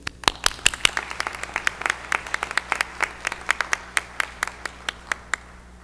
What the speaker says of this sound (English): Please join me in a round of applause for the Master